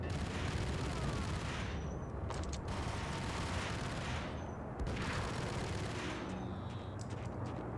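Rapid, sustained gunfire from dual pistols in the video game Max Payne, dense bursts of shots filling the scene with brief lulls between volleys, loud and close throughout.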